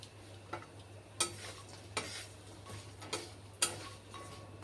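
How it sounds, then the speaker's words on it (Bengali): Lentil dumplings (bori) fry in oil with a faint, quiet sizzle, punctuated by several distinct ticking clicks and clinks of a utensil against the pan. "এবার একটু কড়া করে বড়ি ভাজার পালা আমি কয়েকটা বড়ি দিয়ে দিলাম"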